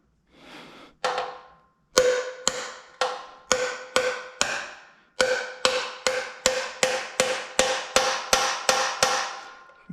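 A hammer taps a part into a vintage Can-Am motocross motorcycle: about twenty sharp, close metallic strikes in a steady rhythm with short gaps between them, after one softer opening tap.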